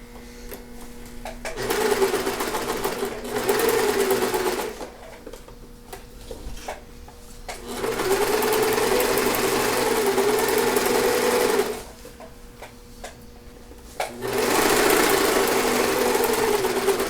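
A sewing machine runs close and steady in several long stitching bursts separated by short pauses, sewing a simple hem with a lengthened stitch, its rapid mechanical hum continuous during each run.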